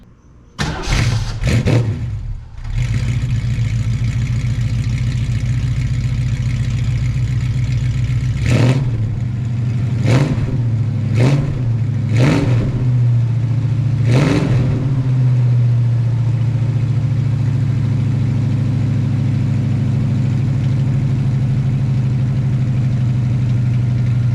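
A 1968 Ford Mustang cranks with a few quick starter bursts, fires up and settles into a deep, burly idle, punctuated by five short throttle blips before running steadily.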